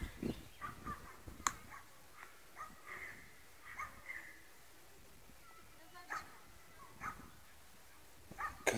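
A fighting dog gives short, scattered barks and yips at moderate distance, interleaved with people talking nearby.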